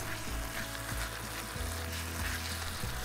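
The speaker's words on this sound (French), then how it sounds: "on va mélanger le tout pour bien cuire le mélange de fécule" A cornstarch-thickened sauce cooks in a pan while being stirred, giving a soft continuous sizzle and bubbling with periodic low scraping strokes, fairly quiet throughout.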